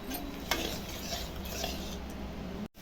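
Yogurt is whisked in a bowl with turmeric, salt and spices: a brisk, steady scraping and swishing with a few sharper clinks, close and moderately quiet.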